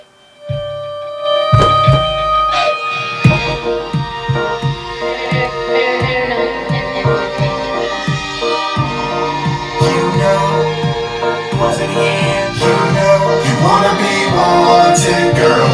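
A DJ mix of music from a Hercules DJ Control Mix controller, fed through an XLR connection, plays continuously with steady beats and layered melody, filling the mix at a moderately loud level with no talking.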